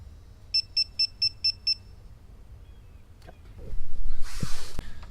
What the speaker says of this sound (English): We should hear some power beeps here in a second to let us know that there's power to this device.